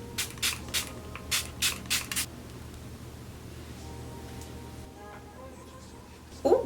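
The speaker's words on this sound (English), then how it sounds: "I'm just going to go over it with one more spray." Makeup setting spray misted close to the mic in about six short, quick hissing pumps in a steady rhythm, then quiet room tone and a faint rustle at the end.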